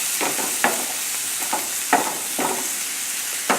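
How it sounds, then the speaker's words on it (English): Minced garlic frying in a pan over a high flame, a continuous sizzle broken by several sharp scraping stirs at irregular intervals. "Putting the garlic in with that, the minced garlic."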